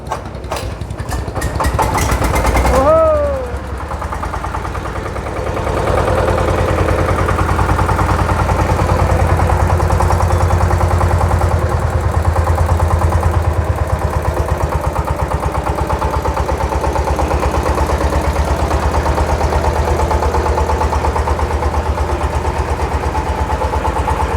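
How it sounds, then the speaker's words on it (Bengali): A few cranking clatters, then a reconditioned diesel engine catches and settles into a loud, steady chugging idle that runs on without pause. "এখন এই ইঞ্জিনটা আপনাদেরকে স্টার্ট দিয়ে দেখাচ্ছি দেখেন"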